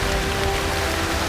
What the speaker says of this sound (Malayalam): ചേമ്പായിട്ടില്ല, നല്ല മഴയായി.